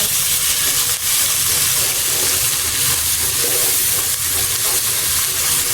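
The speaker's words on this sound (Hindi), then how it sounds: "चम्मच की मदद से इसको आहिस्ता आहिस्ता हम हिलाएंगे।" Onion paste frying in a pan for chicken kofta curry, a loud, steady sizzle and hiss close up while a spoon stirs it slowly.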